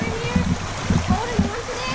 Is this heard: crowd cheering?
no